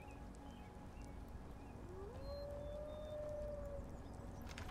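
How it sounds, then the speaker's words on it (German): A single long, rising then level wolf howl carries from a distance in the fantasy video game Enderal, drawn out over a steady low ambient bed, with no talk. "Ich höre da wieder Wölfe."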